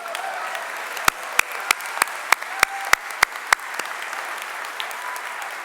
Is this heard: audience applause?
yes